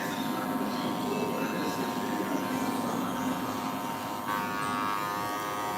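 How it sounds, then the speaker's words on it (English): Electric hair clipper buzzing steadily and close up while cutting a line up on a client's hair, a continuous mid-pitched hum lasting throughout with no talk. "I normally just start my clipper from the point on when I'm cutting all the way down."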